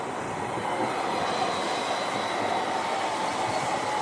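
A tram rolls past on the Leith shore, a steady broadband rumble and hiss that holds loud and even throughout with no voices.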